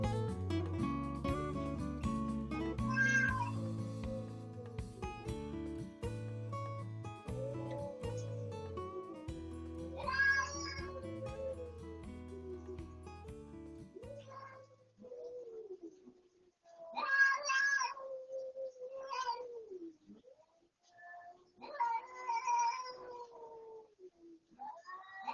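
At night near an outdoor smart cat feeder, cats yowl and caterwaul in drawn-out, wavering cries. Music plays at first, and the cats then sound alone at moderate distance.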